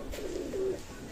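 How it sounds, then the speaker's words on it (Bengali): A pair of Royal Teddy running pigeons cooing, a short low murmuring coo heard close by with no talk over it. "রয়্যাল টেডি রানিং পেয়ার কবুতর"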